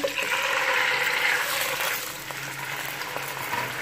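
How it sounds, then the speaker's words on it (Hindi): Chicken drops into half a cup of hot oil in a karahi, setting off a loud, dense sizzle that eases slightly into a steady crackling fry. "कढ़ाई में मैंने लिया है हाफ कप ऑयल अब मैं इसमें डाल दूंगी चिकन"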